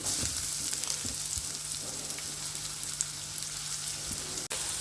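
Onions sizzle and fry in hot sunflower oil, a steady close crackling hiss that runs unbroken and alone, with a few faint clinks near the end.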